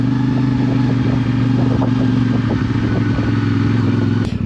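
An off-road motorcycle engine drones steadily up close, with rattling clatter and bumps over rough ground, ending in a sharp knock.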